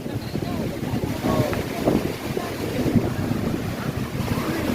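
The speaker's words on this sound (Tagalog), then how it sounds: "Ang lakas ng alon." Strong surf rolls onto the white-sand beach at Boracay. The waves make a continuous churning wash under heavy wind buffeting the microphone, with no clear single breaks.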